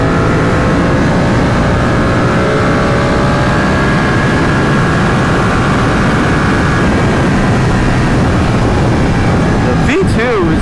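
A 2020 Ducati Panigale V2 accelerating hard to pass other riders, its engine droning loudly in a rising pitch over heavy wind roar, with a quick shift near the end.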